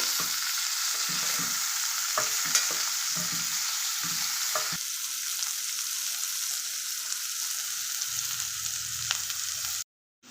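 Bitter gourd (kakarakaya) slices and onions fry in oil in a pan with a steady crackling sizzle, broken by soft scraping strokes as they are stirred.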